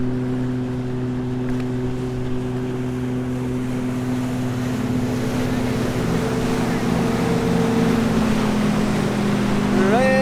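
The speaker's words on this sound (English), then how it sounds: "waves are pretty insane" Steady wash of Lake Erie waves against a sailboat's hull in wind, with a continuous droning motor hum underneath and a rising tonal sweep near the end.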